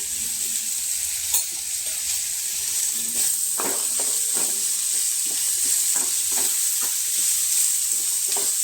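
Grated radish frying in ghee in a pan, a steady bright sizzle throughout with intermittent scraping and clacking of a spoon as it is stirred, close and continuous.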